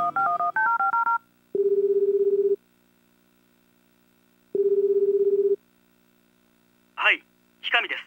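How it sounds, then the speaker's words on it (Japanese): Telephone dialing in the Tokimeki Memorial Girl's Side video game: a quick run of keypad tones, then two long evenly spaced ring tones separated by silence, followed by short chirpy game voice sounds. "ひかみくんに電話しよう"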